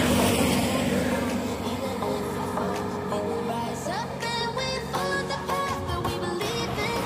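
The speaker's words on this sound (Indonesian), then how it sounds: "Dan ini bus Parwis." A tourist bus pulls away beside Lake Singkarak, its engine rumbling and horn-like tones sounding over roadside ambience while people talk nearby.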